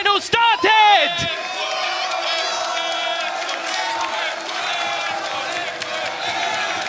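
A studio crowd at an esports grand final, the VCT EMEA Finals, cheers and whoops loudly right at the start, then keeps up a sustained roar of voices behind a commentator's talk.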